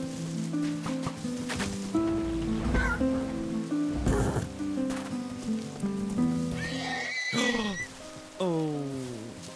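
A horse neighs in Minecraft with a long, loud whinny that falls in pitch near the end, over steady game ambience that sounds like rain and low tones.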